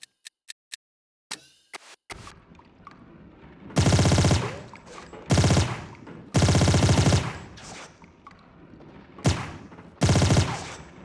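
Several sharp single shots, then long, loud bursts of automatic gunfire, broken by short pauses, in the video game Tomb Raider: The Angel of Darkness.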